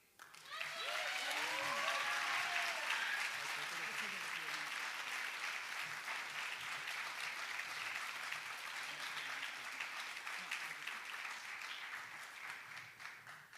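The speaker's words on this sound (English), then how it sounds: "please give a warm Applause" Audience applause at a school fine arts banquet, a full, steady round of clapping from a large indoor crowd that swells quickly and holds for over ten seconds before slowly tapering.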